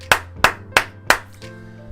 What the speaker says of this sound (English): People, round of applause for Shiny Luck